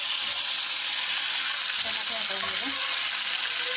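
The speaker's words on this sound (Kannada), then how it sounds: "ಸ್ವಲ್ಪ ಟಮಾಟೆ ಫ್ರೈ ಆಗಲಿ ಫ್ರೆಂಡ್ಸ್." Tomato sizzles and fries in hot oil in a pan with mustard seeds and curry leaves, a close, continuous crackling hiss throughout with faint stirring sounds.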